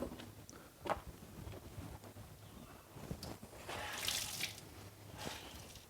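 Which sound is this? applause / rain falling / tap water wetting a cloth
tap water wetting a cloth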